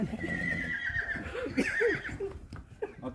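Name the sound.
horse neighing and hooves clip-clopping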